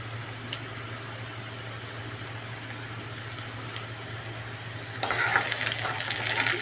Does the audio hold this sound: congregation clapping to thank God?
no